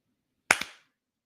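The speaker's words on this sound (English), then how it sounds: "I'm trying to get those 2 claps down as tight as we can." Two sharp hand claps in quick succession, close and loud, the second slightly softer, alone in silence.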